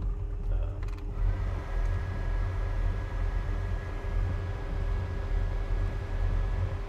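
Air conditioning in a 1967 Pontiac GTO blows steadily inside the cabin, a continuous even whoosh of airflow over a low rumbling hum with a faint steady whine, unbroken for the whole stretch.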